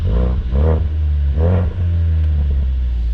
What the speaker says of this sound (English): Obviously got exhaust mode, so we can press it on here, whereas this is sport, so you can hear that